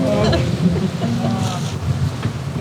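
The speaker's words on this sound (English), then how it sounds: "Pretty windy, huh?" Strong wind, around 25 knots, buffets a wooden sailboat in Arctic waters, a steady loud rush with low rumble and water noise throughout, while people talk excitedly over it.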